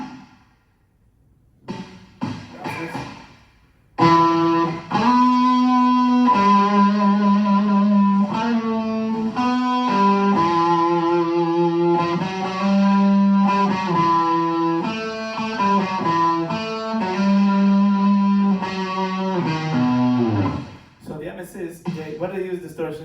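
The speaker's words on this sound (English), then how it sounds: "Have a lot of different flavors of distortion." Heavily distorted electric guitar plays sustained, buzzing notes and chords for most of the stretch, loud and saturated, with short quiet gaps at the start and end.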